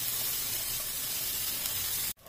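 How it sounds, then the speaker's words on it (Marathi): Onion frying in a pan of oil after paneer has been taken out, a steady close sizzling hiss that runs unbroken before cutting off sharply near the end. "आपण पनीर काढून घेऊन त्याच्यामध्ये आपण कांदा टाकून देऊया। ते गोल्डन ब्राऊन होईपर्यंत तळून घेऊया।"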